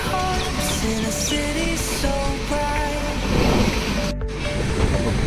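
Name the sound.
container goods train passing alongside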